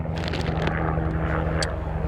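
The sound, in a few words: gendarmerie helicopter flying over the river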